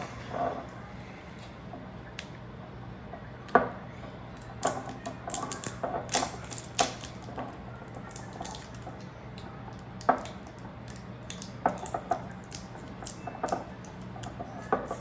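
Cucumber rubbed against a cucumber grater while a steak dinner is prepared, with irregular quick scraping clicks and wet ticks repeating steadily at close range, and no voices.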